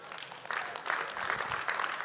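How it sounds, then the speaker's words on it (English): Light, scattered clapping from a start-up competition audience in Düsseldorf, steady but unenthusiastic over about two seconds with a faint murmur beneath. "This is not a warm applause."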